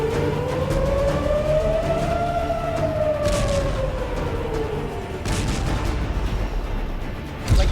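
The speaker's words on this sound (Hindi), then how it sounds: "6-7 बार अभी तक सायरन बज चुकी है और बार बार सायरन बजती है।" Air raid siren wailing during an attack on Iran, a long rising and falling tone over heavy rumbling background noise, loud and sustained with a distant thud near the end.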